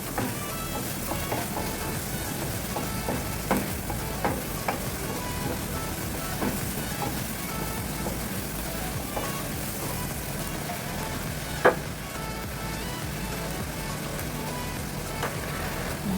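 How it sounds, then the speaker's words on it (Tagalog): Tofu with egg and green peas sautéing in a pan, a steady dense sizzle with light stirring and scraping, one sharp clink near the end, and faint talk underneath. "igisa natin konti yan"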